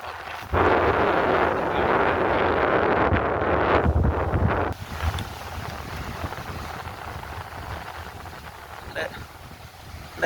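Strong wind roars across the microphone with heavy surf rumbling beneath at a beach in Palermo, loud and constant, easing slightly midway but continuing to the end.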